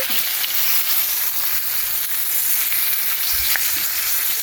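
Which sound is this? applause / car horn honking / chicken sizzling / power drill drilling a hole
chicken sizzling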